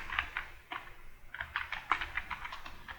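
Fingers tapping out a command on a computer keyboard, a quick uneven run of light, close keystroke clicks over quiet room noise.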